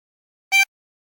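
A single short blown harmonica note on hole 6, bright and reedy, sounding alone and close for a fraction of a second.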